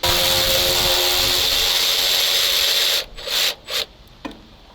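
Metal rasping and scraping runs steadily while the radiator is worked loose from an old ZIL truck that was pulled from water, then breaks into a few short, separate scrapes and clanks.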